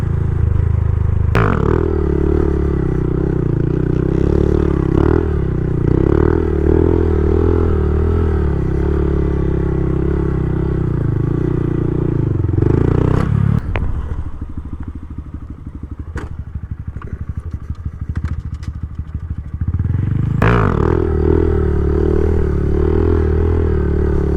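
A 2021 Honda Grom motorcycle rides along, its small engine droning loud and close, dropping briefly in a lull as it shifts into second gear, then picking back up with thumps and clatter.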